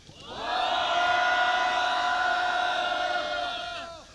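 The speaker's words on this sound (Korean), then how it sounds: "오늘 반드시 방송 3법 개정안이 통과될 수 있도록 함성을 한번 다시 모아주십시오" A crowd at a press conference outside the National Assembly shouts together in one long, sustained roar that swells in, holds steady for several seconds, then trails away.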